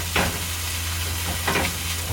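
Beef, onions and mushrooms for a Philly cheesesteak sizzle steadily in a pan outdoors, with two bursts of scraping and hissing as the mixture is stirred, over a constant low hum.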